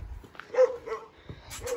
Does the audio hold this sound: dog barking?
yes